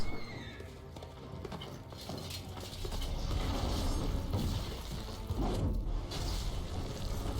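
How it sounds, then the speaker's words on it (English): Steady clip-clop of horse hooves in The Witcher 3 open-world game, plodding in an uneven rhythm with creaking tack over a low rumbling bed; no clear neigh stands out. "That poor horse."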